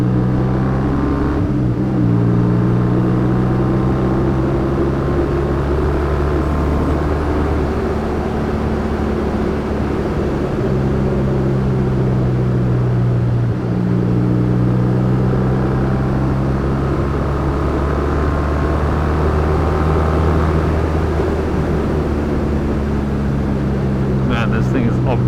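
A Triumph T140V motorcycle engine drones loudly and steadily while being ridden, with a deep, continuous exhaust note that holds for the whole stretch and a voice talking over it.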